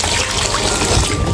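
Tap water runs steadily and loudly over salmon being washed, a continuous close rush without a break.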